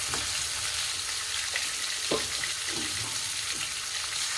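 Chicken pieces frying in a small amount of oil in a pan, a constant close sizzle with a few faint spatula scrapes and pops, no speech.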